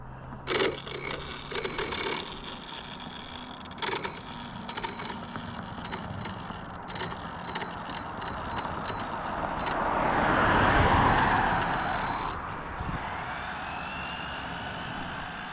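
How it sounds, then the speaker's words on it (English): Traffic hums in the background with a few clicks, then a large vehicle swells in and rumbles past, peaking loudly before fading away. "I'll wait for this truck."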